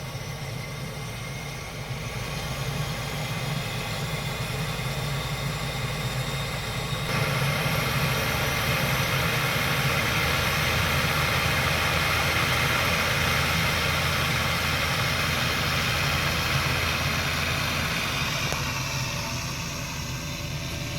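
A turboprop airplane on a dirt runway gives a steady, loud engine drone with a broad hiss and low rumble. The pitch rises slightly partway through as it gathers speed, and it sounds continuous and close.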